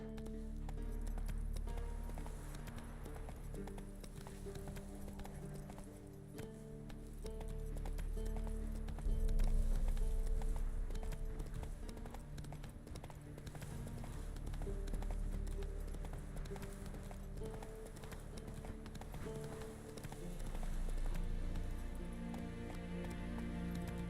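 Steady clip-clop of Roach the horse's hooves in The Witcher 3, a continuous trotting rhythm under a layer of game music, fairly close and moderately loud throughout.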